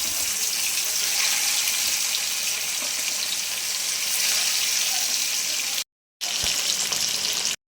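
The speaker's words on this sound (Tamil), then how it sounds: "மீன் வறுக்க போகிறேன்." Fish sizzles in a frying pan with a dense, constant crackle and hiss, loud and close, broken by a brief silent gap near the end.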